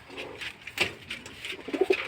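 Pet pigeons coo nearby in a loft, several soft, throaty calls repeating in short bursts against a quiet background.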